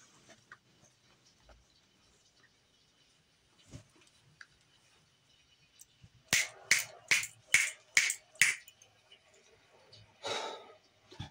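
Six crisp finger snaps in a quick, even series, close and fairly loud against a quiet room, with faint breathing sounds around them and a softer noise just afterward.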